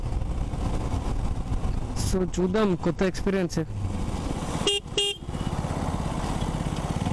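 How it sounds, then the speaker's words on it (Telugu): A motorcycle with a loose chain rides on, its engine drone and road noise steady and close throughout, with a couple of horn honks and someone talking over it. "నా బైక్ చైన్ అయితే లూజ్ అయిపోయింది అండ్ సౌండ్ అయితే ఘోరంగా వస్తుంది"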